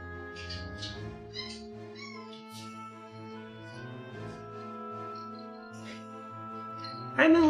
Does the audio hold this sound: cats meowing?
yes